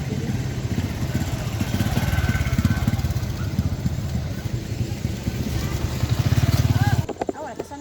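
A motorcycle engine idles and putters steadily at a campsite parking area, fairly close, then cuts off near the end, with voices talking in the background.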